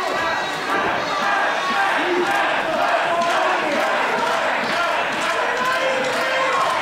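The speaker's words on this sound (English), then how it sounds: "The crowd is loving it" Wrestling crowd at a live show roaring and cheering steadily throughout, a loud, dense wall of voices with no breaks.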